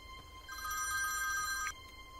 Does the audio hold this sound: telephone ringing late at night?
yes